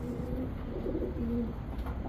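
Low, soft pigeon coos repeat a few times close by over a steady background hum.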